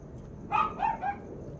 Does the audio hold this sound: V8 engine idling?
no